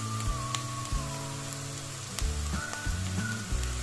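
Close, steady sizzling of flour frying in a pot for lentil chicken soup, with a few faint clinks and low hum underneath.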